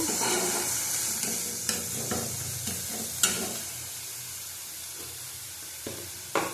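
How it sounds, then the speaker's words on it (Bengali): Rui fish frying in a pan of oil with panch phoron spices, a close, continuous sizzle broken by scraping stirs and occasional knocks of a utensil against the pan, with no voices. "ভালো করে লাল লাল করে ভেজে নেবো।"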